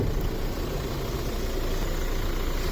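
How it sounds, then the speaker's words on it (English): A Hyundai Creta's engine idles steadily, a close, continuous low rumble with an even hum and no revving or other sounds. "I hope you have now understood the difference in this engine sound."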